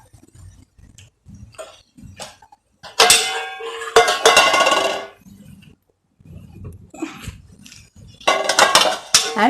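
Metal plates and lid of an idli maker clinking and clattering while vattepam is prepared, with bursts of bright metallic rattling separated by quieter handling knocks and thuds, close and loud.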